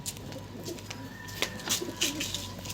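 A female Giribaz pigeon and others coo softly in a loft in Payradanga, Nadia, giving low throaty coos with a few sharper chirps, fairly faint and close, with no speech.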